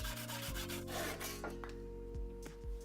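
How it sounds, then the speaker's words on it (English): Foxtail saw from a Parkside handsaw set cuts through an old scrap of pallet wood, giving a close, dry rasping drag with rough strokes about every half second and no talking. "Now moving on to the foxtail saw, and this is an old scrap of pallet wood"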